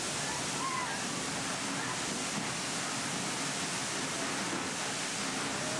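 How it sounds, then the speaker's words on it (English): Spectacular waterfalls cascade with a steady, even roar of falling water that fills the whole stretch at a moderate, constant level. "Just as mesmerising is the cascading water flow of spectacular waterfalls."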